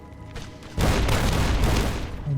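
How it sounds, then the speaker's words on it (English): A rocket launcher explosion in Fallout: New Vegas, Lonesome Road, hits after a quieter stretch as a loud sustained blast with rumbling debris, continuing heavy and dense for over a second and a half. "Oh yeah, he has a rocket launcher."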